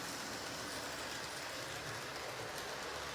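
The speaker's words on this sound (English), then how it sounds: "Testing this locomotive now." A model train locomotive runs along its track with a continuous, even rolling hiss and faint clicking, heard close and steady throughout.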